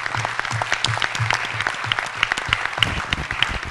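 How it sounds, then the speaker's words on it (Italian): Audience applause at a literary prize ceremony, steady dense clapping from a seated crowd throughout, moderately loud with a few sharper individual claps standing out near the end. "A tutti, anche a Sandra Landi che non poteva essere qui, un applauso."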